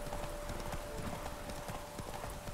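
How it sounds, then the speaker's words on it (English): Horse hooves gallop in the Witcher 3 video game, a fast, steady clip-clop rhythm that sounds close and fills the clip over a noisy in-game background. "Why is there a random wild horse on there?"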